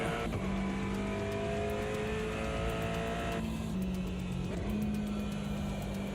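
An Aston Martin race car in Automobilista 2 drives past at close range, its engine whining steadily and shifting pitch as it accelerates, with light tyre squeal.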